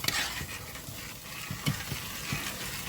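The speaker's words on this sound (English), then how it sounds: "Give it another stir." Beef oxtails stirred in a pot, with soft scraping and knocks of a spoon against the pot over a low steady sizzle, close and fairly quiet.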